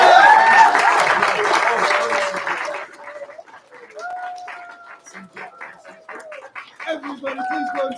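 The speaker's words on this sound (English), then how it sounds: "So let's give them a big round of applause." Applause from a karate class audience fills the opening seconds, dense and fairly close, then gives way to scattered sounds and voices with faint clapping remnants.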